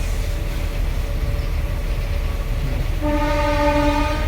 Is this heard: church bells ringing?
no